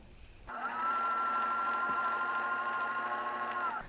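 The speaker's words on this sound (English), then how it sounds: "I'm going to sew 1/4 inch from the edges with small zigzag stitch." A sewing machine running a small zigzag stitch a quarter inch from the edges of pajama fabric, starting abruptly and then humming in one fast, continuous, close-up run with a rapid needle rhythm.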